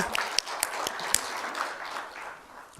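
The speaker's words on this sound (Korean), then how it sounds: "하나님 앞에 영광, 주님 앞에 박수 올려드립시다." A congregation gives applause during a Korean expository sermon, a moderate patter of clapping with several sharper individual claps standing out early, thinning and fading toward the end.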